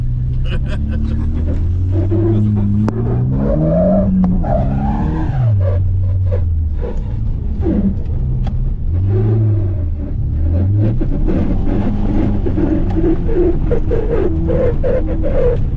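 An Audi S3 on an ice race track drones loudly and continuously, its engine pitch repeatedly climbing and dropping as it accelerates and shifts, with people talking over it from inside the car.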